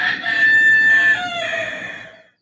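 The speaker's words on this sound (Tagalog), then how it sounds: "Pati manok ko maingay." A rooster crows once, loud and close, with a long drawn-out call that tails off at the end. No one speaks over it.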